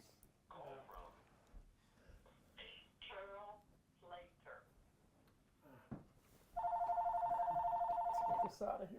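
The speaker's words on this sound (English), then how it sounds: "Just gonna wait just a few seconds for the phone" A telephone rings in a steady electronic trill lasting about two seconds near the end, following stretches of people talking in a room.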